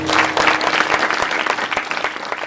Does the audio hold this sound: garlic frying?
no